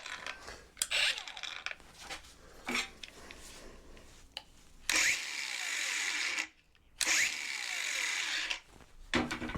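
A DeWalt angle grinder motor spins up in short bursts, close, with sharp starts, a sustained whine around the middle and brief silences and clatter between runs.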